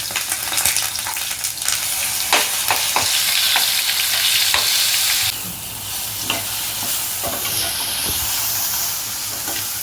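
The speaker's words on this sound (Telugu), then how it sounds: "ఈ వెల్లుల్లి కారం దీంట్లో వేయాలి." Garlic chili paste sizzles loudly as it is stirred into hot tempering oil with curry leaves and onion, a continuous crackling fry with scraping stir strokes, the sizzle dropping a little partway through.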